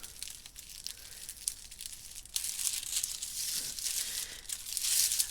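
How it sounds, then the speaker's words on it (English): Tissue paper wrapping inside an unboxing package crinkles and rustles close by, in dense, steady bursts that grow louder and busier partway through. "let me move the tissue so we haven't got loads of crinkly wrapping"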